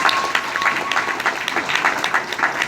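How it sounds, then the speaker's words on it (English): A crowd claps steadily and densely throughout, loud and close, with a faint voice briefly audible under the applause. "Give this sister a round of applause, please."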